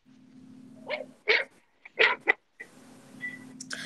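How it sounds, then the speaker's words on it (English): Several short, sharp dog barks and yips break up low background hum in a radio drama scene, spaced irregularly, moderately loud, with a brief higher whine toward the end. "I hear dogs barking in the background."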